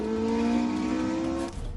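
A Porsche 918 Spyder hybrid supercar in race mode, with combustion engine and electric motors working together, accelerating hard. Its loud, steady, rising engine roar fills the clip up close and drops away near the end.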